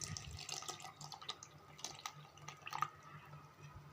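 Buttermilk poured into gram flour for kadhi, giving a soft, close trickle and splashing of liquid with light drips and clinks, fairly quiet and with no talking.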